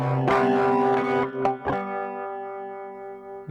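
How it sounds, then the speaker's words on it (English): A sustained distorted electric guitar chord rings out with a swirling, sweeping Ableton Live flanger effect with LFO, struck a couple of times before fading out alone. "Load up a flanger, give it some LFO."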